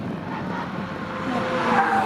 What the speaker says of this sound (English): Andy Fagan now heading into and out of Orchard in his Boxster S